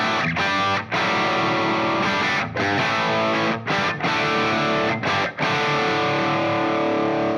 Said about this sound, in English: the next one we've got is the 20-watt Marshall Plexi,